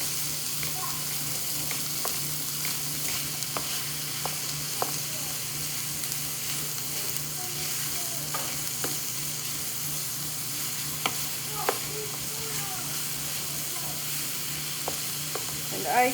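Chopped onions and celery sizzle steadily in a pot as chili is started on the stove, with a low continuous hiss and occasional light scraping clicks from stirring.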